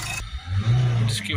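A Nissan Note 1.5 diesel engine idles and then rises through a short rev before settling, running fairly close, while a person talks over it.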